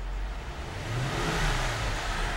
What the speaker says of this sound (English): I'm gonna rev the engine.